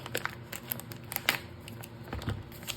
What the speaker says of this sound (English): And this is a Ziploc bag